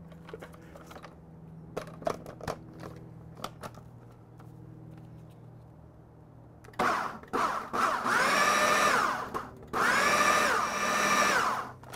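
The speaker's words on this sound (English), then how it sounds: "toss this into the old food processor" A food processor blends gyro meat in two loud, whirring bursts, briefly interrupted near the end, after several seconds of quiet clicks and knocks.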